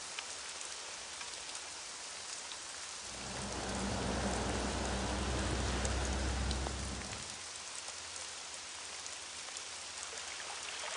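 Rain falling during a storm in Vermont, a steady broadband hiss that swells noticeably louder for several seconds in the middle before easing back to a softer patter, with no voices.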